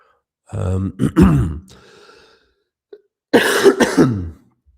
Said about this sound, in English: I quit smoking like 2 months ago or something like that, and I've had a persistent nasty cough ever since.